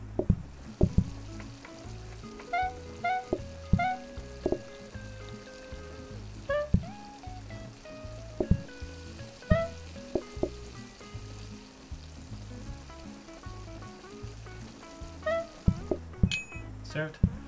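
Stir fry sizzles steadily in the PlateUp! kitchen, a continuous frying hiss broken by clinks, taps and short chimes from other cooking and serving actions, with occasional talk over it.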